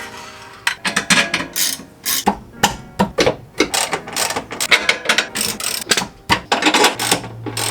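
Ratchet tightening suspension bolts on a Ford Mustang GT during a lowering job, with loud, close, rapid clicking in repeated bursts and short pauses between strokes, no voices.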